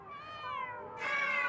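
A cat meows twice in a cat cafe, a long drawn-out cry followed by a louder, higher one, close and clear with no talking.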